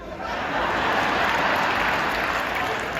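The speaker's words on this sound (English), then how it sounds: "Give the Reverend Jesse Jackson another round of applause." A large audience gives a sustained round of applause for Reverend Jesse Jackson, pastor and freedom fighter, at a political event. The dense, steady clapping runs loud and even from start to finish, with faint cheering mixed in.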